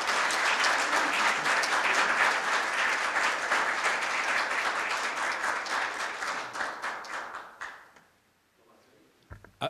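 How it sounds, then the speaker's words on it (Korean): Dense applause from an audience greets a speaker at a Korea University law school event. The clapping is loud and sustained for about seven seconds, then thins out and fades into near silence, with a few scattered claps at the end. "여러분 큰 박수로 맞이해 주시면 감사하겠습니다"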